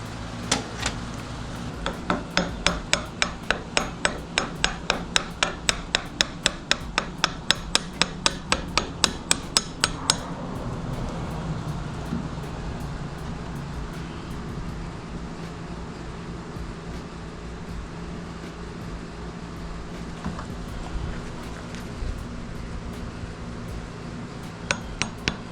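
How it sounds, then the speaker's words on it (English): Repeated sharp hammer-on-chisel strikes cut into wood while building a double swing gate, a steady fast rhythm of close, loud knocks for about ten seconds, then quieter scraping and handling noise with a couple of final taps. "I think I'm just going to have to maybe chisel some of this stuff off"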